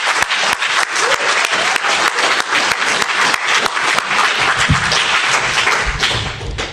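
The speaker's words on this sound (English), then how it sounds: "I think we should just give a round of applause for the people that put on AnyCon" Enthusiastic applause from a security conference audience at AnyCon in upstate New York, thanking the crew and organizers; close, sharp claps and a few thumps ring out over a steady roar of clapping.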